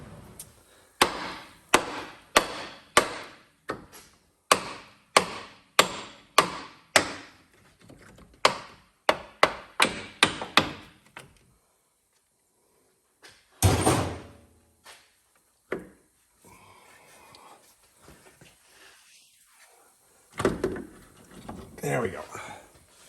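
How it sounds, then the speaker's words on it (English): Pry bar working a strut assembly loose on a 2003-or-later Crown Victoria, Grand Marquis or Town Car: a rapid run of sharp, evenly spaced metallic knocks, then a pause, a single heavy clunk and scattered lighter clanks nearby. "pry that out with the pry bar and yank it towards me and then lift it out"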